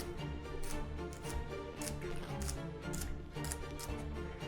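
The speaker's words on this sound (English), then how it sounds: "I'm gonna bring it to these planks, my celery julienne" A knife cuts celery into julienne strips on a cutting board, making a steady run of short, crisp chopping ticks in a fast, even rhythm, close and moderately loud.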